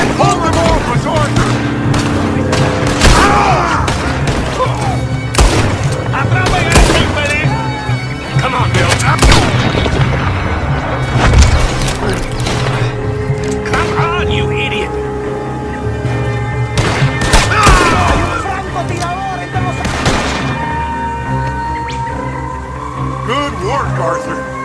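Enemy gunfire in a Red Dead Redemption 2 shootout cracks in loud, repeated shots and booming volleys over sustained battle noise, with voices shouting in between.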